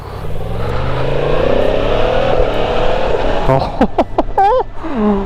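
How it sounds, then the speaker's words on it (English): A 2023 Yamaha MT-10 motorcycle engine revs and accelerates steadily up close, with a few sharp whistling tones cutting in near the end. "It's a really smooth engine."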